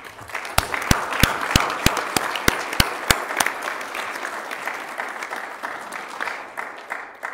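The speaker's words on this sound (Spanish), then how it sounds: "los reconocemos con un aplauso a todas las mujeres y hombres con más de 30 años de servicio en esta institución" At an anniversary ceremony of the Tribunal Superior de Justicia, an audience applauds staff with over 30 years of service: a few sharp, evenly spaced claps ring out at first, then settle into steady, moderately loud crowd applause that slowly fades.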